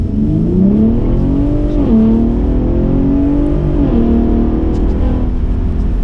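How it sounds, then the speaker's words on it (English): A 2021 Ford F-150 Raptor's twin-turbo V6 exhaust in sport mode growls loudly up close, the engine note climbing in pitch, dipping briefly at each shift, then rising again in a steady rev. "This is exhaust in sport mode."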